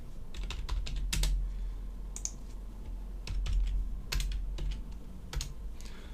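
Steady clicking keystrokes on a computer keyboard while code is being written, coming in quick irregular bursts with brief pauses, close and fairly quiet.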